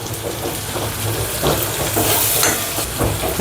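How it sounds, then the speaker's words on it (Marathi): Chopped onions with salt and green chillies fry in a pan, a loud close sizzle with bursts of stirring scrapes rising and falling every second or so. "कांद्यामध्ये थोडंसं मीठ टाकून द्यायचं म्हणजे कांदा लवकर होऊन जातो थोडंसं हिरव्या मिरच्या टाकूया"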